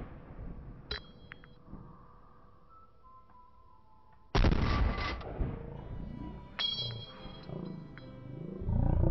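Gunfire in the survival shooter DayZ Standalone: a sharp broadband shot cracks out midway, loud against quiet game ambience, followed by smaller clanks and another burst of noise near the end.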